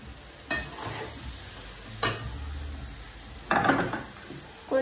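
Mango pieces are stirred into lemon pickle, giving a few short, close scraping and stirring bursts over a soft, steady background hiss.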